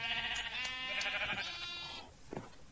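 A video game sheep lets out a long, wavering bleat close up, followed by a few soft clicks and thuds.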